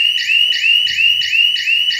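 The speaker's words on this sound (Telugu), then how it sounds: "అలారం వస్తుంది." A homemade supply failure alarm for a 33kV substation sounds close and loud, with no talk over it. It gives a continuous piercing electronic warble that repeats in fast, regular pulses.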